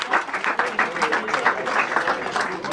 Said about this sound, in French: on peut l'applaudir, le coureur de la formation de Roanne avec Valentin de Verchères